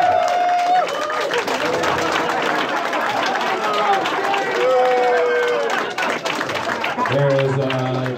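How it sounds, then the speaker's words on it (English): A crowd applauds and cheers for wrestling journalist Dave Meltzer at an NJPW G1 Special contract signing event, with dense clapping running steadily throughout and voices talking over it. "Are we going to give Dave a round of applause, please?"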